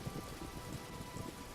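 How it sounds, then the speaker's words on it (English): Steady heavy rain pours down through the night, a dense, even hiss of drops on a surface, fairly faint and continuous with no voices. "the rain that's been going on this whole time"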